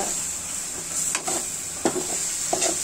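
A blended paste of ginger, garlic, onion and cumin fries in hot oil with whole garam masala for a chicken curry, giving a continuous close sizzle with occasional sharp stirring clacks and no voices.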